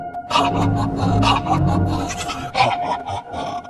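Goat bleating repeatedly and loudly up close, a run of wavering bleats with short gaps, no talking.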